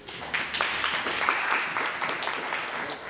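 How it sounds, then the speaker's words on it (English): Audience applause at an Impact.tech tech conference in San Francisco, a dense steady patter of many hands clapping close by that keeps going without a break. "I love it when I get to clap for someone in the audience."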